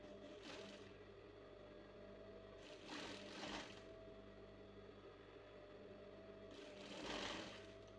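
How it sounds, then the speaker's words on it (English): A sewing machine stitches a baby frock, whirring steadily and quietly throughout with a couple of slightly louder surges, and no voices. "that is where you're going to start sewing"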